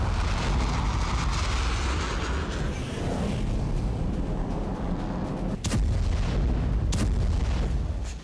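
Heavy airstrike blasts in Syria, a sustained roaring rumble of explosions with sharp bursts near the end, loud and continuous with no talking.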